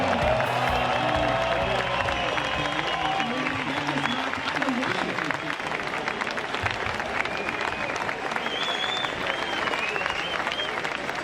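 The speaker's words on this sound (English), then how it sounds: "Everyone, big cheer, give yourselves a round of" A crowd at a music event claps and cheers, dense continuous applause with scattered whoops and voices rising through it, loud and steady throughout.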